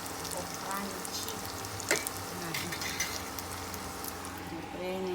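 Tofu frying in hot oil gives a steady crackling sizzle with occasional pops and a utensil scrape, while faint background voices murmur in a home kitchen.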